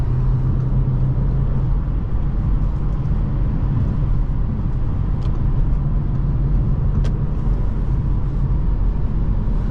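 A 2012 Audi A7 3.0T Quattro with a supercharged engine on a test drive, heard as a loud, steady cabin drone of engine and road rumble that stays even throughout, with no talking.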